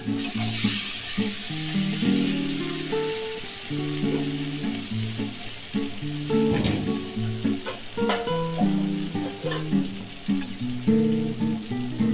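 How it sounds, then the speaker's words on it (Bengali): Water is poured into a hot pan of sautéed ginger, green chilli and potatoes for a katla fish curry, raising a loud, close, continuous sizzle with a sharper burst midway, over steady tonal background music. "এখন আমি জল দিয়ে দেবো"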